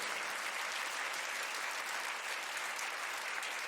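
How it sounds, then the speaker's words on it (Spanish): Steady, dense applause from a church congregation during a sermon fills the space evenly and continuously, with no voices standing out above it. "Yo le daría un aplauso al Señor por eso."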